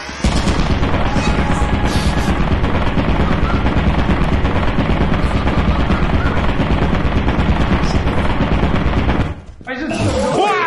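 A turret machine gun in the video game Lethal Company fires a loud, relentless stream of rapid shots for about nine seconds, then cuts off abruptly, leaving a brief quieter moment of other game noise.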